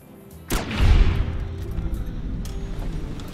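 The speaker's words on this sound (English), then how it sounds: "See if we can snipe him with the varmint rifle." A single sharp varmint rifle shot in Fallout: New Vegas, a sudden crack followed by a booming low rumble that decays over a couple of seconds, with faint clicks after.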